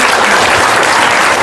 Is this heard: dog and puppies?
no